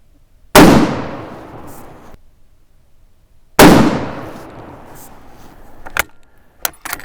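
Two loud, sharp rifle shots from a 1917 Remington .30-06 firing weaker handloads, each followed by a long decaying echo, spaced about three seconds apart, with faint handling clicks after the second.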